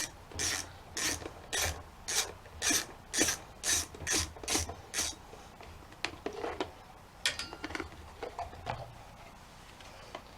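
A hand ratchet clicks in quick rhythmic strokes while loosening a bolt on a tiller's air filter cover, about a dozen close, crisp bursts followed by a few slower, scattered clicks.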